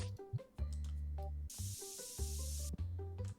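A short spray hiss in a video game, bursting out for just over a second mid-clip over steady, harmonic game music.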